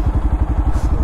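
A Yamaha motorcycle engine idles close by with a quick, even, thumping pulse, a short steady burst of low rumbling.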